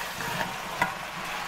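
Yam pieces stirred in a cooking pot give a steady, close hiss of frying and scraping, with a couple of brief clinks partway through.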